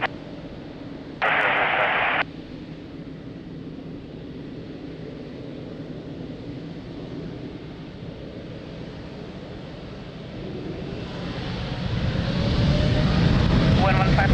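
A United Boeing 787-10 taking off at Lisbon Airport, its engine roar building steadily and growing loud toward the end, heard under faint radio chatter with a brief tonal squelch early on.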